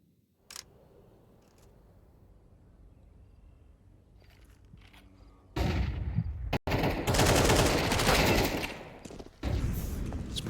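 Rifle spray from Counter-Strike in a professional esports match, with a sharp early shot, then dense sustained automatic fire roaring loudly for several seconds, broken by a brief gap and resuming near the end.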